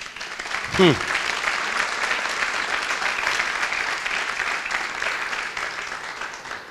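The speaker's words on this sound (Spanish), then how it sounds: "Denle un aplauso al Señor, que lo veo muy callado." Congregation applauding at a church service, a dense, steady wash of clapping filling the room throughout, with a brief voice rising near the start.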